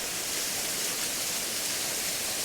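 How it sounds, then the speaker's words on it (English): A waterfall after rain gives a steady, dense rushing roar, continuous and even throughout with no other sounds. "There's enough water falling over there to give that sort of streamy horsetail effect look that I really like."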